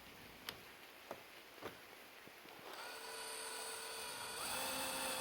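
A power drill drives a screw into the steel wicker base of a patio chair, a few sharp clicks first, then a steady whining motor buzz that runs to the end, close and fairly quiet.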